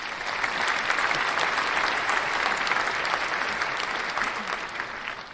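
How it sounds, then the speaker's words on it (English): Dense, continuous applause from many hands fills the entire stretch, steady and fairly loud with no talking over it, easing off only slightly toward the end. "I had to give myself a little clap there."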